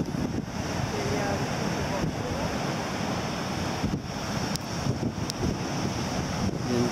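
Wind buffets the microphone over steady surf rolling onto the beach at Valras-Plage after floods, a continuous broad roar with no distinct breaks, close and fairly loud.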